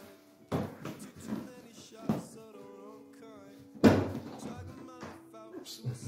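A hard case for an LCS Air Arms SK19 5.5mm air rifle is opened, with several knocks, thunks and latch clicks over a few seconds. Someone talks intermittently in between.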